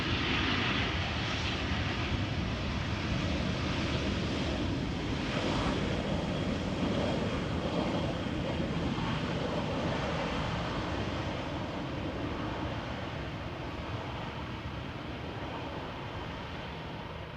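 A jet airliner on the runway at Amsterdam Schiphol roars from directly behind, a loud broad engine rush that holds steady and slowly eases off across the whole stretch.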